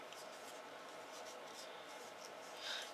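Anna Griffin card paper is folded by hand, giving a soft, quiet scrape and rustle of creasing up close.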